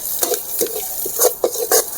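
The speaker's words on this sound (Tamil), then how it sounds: "கீரை நல்லா வதக்கிட்டு பாருங்கள்." Drumstick leaves and carrots are stirred in a hot pan, giving a soft, steady sizzle. Several close, sharp scrapes and clinks from the spatula break in at irregular moments, and no voices are heard.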